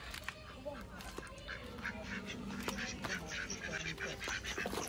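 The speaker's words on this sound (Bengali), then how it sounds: "হাঁসগুলো দেখো কি সুন্দর" Ducks quack at a farmhouse, scattered nasal calls and honks from nearby birds amid outdoor ambience, with people chatting over them.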